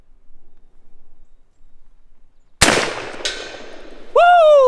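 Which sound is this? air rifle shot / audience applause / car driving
air rifle shot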